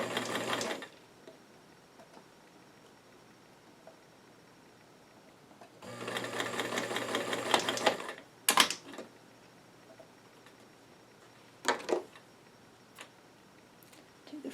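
Sewing machine stitching the top edge of a back pocket on five-pocket doll jeans, two sustained runs of fast mechanical whirring separated by pauses, with a few short sharp bursts afterward as fabric is adjusted.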